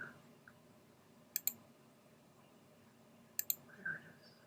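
Two pairs of crisp computer mouse clicks made at a desk while selecting items in design software, faint and close against a quiet room hum.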